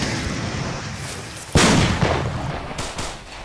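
Weapon firing with backblast during a military exercise, one sharp, loud blast that cuts through steady outdoor rumble and then fades, followed by a couple of fainter pops.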